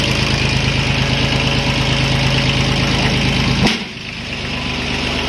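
Yanmar YM2001D tractor diesel engine idling up close, a steady low throbbing chug with a rapid even pulse that drops off suddenly near the end as the engine note changes and settles quieter.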